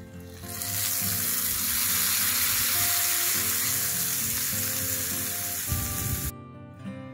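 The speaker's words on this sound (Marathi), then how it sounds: "ही कडकडीत फोडणी आपण आता चटणीवर ओतून घेऊ" Hot oil tempering with mustard seeds, chana dal and dry red chillies poured over chutney, giving a loud continuous sizzle and crackle for several seconds that cuts off sharply, leaving faint clatter.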